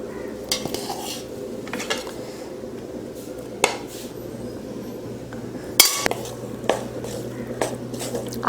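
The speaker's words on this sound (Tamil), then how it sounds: "இப்போ இதில் சாப்பாடு போட்டு கிளறிக்கலாம்." Cooked rice stirred into tamarind paste in a pot, repeated clinks and scrapes of a spoon against metal with a soft continuous hiss beneath, close and irregular, a faint voice occasionally audible.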